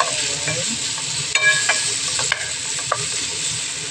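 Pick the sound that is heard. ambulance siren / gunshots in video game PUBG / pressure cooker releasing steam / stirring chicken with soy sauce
stirring chicken with soy sauce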